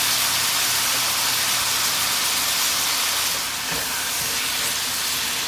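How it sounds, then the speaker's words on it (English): Ground meat browns in a hot cast iron skillet for a Tex Mex dish, with a loud, dense, continuous sizzle heard up close and no voices. "You want to brown the meat."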